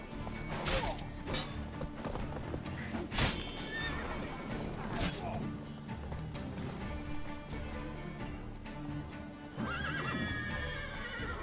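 Horse neighing and whinnying in The Witcher 3, with clip-clop hooves and occasional crashes over a dense game soundscape; a second whinny comes near the end.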